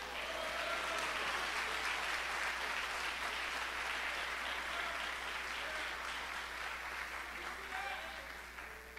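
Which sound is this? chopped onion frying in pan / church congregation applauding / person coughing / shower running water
church congregation applauding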